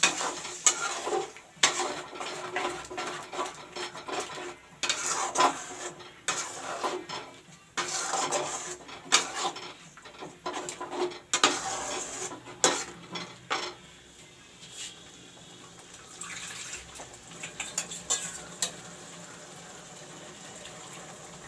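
Masala with chili powder for a chicken curry being stirred in a pan, with repeated scraping and clinking of a utensil against the metal in bursts, close and fairly loud, easing to quieter stirring toward the end.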